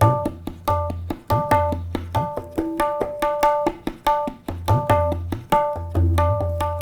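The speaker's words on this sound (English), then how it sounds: "So it sounds like this on the tabla." Tabla playing a qaida from North Indian classical music: crisp repeated right-hand strokes over deep, bending bass-drum tones in a steady cyclic rhythm, close and loud with no voices.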